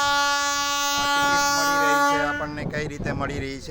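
A train horn sounds at a village station, a steady loud tone holding for about two seconds before people begin talking over the arrival.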